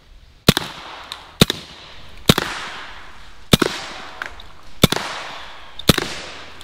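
Six sharp, loud shots from a BinTac S45 Mini air gun fired into a watermelon, spaced roughly a second apart, each a crisp crack with quick decay over quiet outdoor background.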